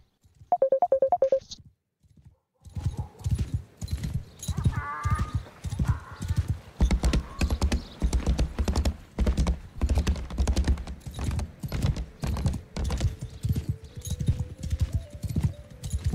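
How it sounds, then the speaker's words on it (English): Horse hooves clip-clop steadily in the video game Banishers, a brisk, even trot that runs almost without a break after a short chiming tone at the start. "I'm just trying to work out how to make my horse sprint"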